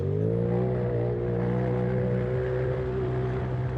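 UTV off-road race car at a desert championship race accelerating hard out of a right-hand turn, a loud steady engine drone with rising harmonic pitch, close and continuous.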